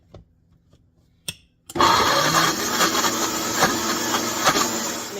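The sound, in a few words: Vitamix blender blending onions and garlic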